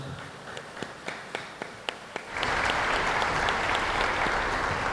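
Scattered claps at first, then a burst of sustained applause from a congress audience for a forum panel that fills the rest of the clip, loud and steady.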